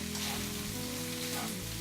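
Jerk spaghetti and vegetables fry in a pan, Jamaican style, with a soft, continuous sizzle and crackle that stays quiet and even from start to finish. No one speaks.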